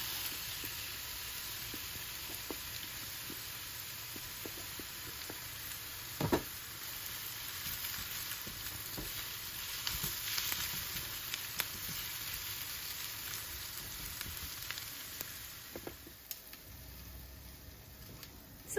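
Bacon sizzling in a pan for carbonara, a continuous steady crackle and hiss with scattered small pops and occasional stirring clicks, moderately loud and close, with no talking.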